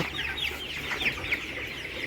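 Broiler chickens about 25 days old cluck and chatter in a shed, many birds close together making continuous overlapping calls.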